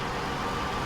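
A truck engine idles in the Snowrunner video game, a steady, even low rumble held at a constant level for under a second, with no other sounds.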